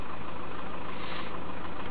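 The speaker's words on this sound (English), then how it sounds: "Start the engine." A car engine idles steadily during diagnostic checks of the fuel flow on cylinder number 3, a dense, even rumble that fills the whole span without pauses.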